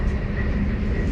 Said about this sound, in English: And now we are on the train on our way back home.